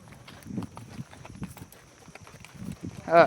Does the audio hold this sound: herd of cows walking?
yes